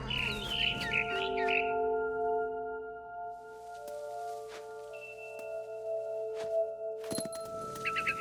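A barn swallow chirps in What Remains of Edith Finch: a quick cluster of bright twittering calls at the start, then quieter stretches with a few soft clinks and a brief chirp near the end over a steady low tonal hum.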